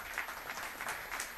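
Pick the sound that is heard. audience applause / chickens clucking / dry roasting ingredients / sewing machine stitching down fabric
audience applause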